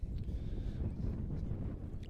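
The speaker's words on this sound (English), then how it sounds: "it's a little windy" Steady gusty wind roars across an outdoor high school baseball field during a Southside at Har-Ber game, with dust blowing; a continuous low rumble of wind buffeting the microphone fills the whole moment with no talk.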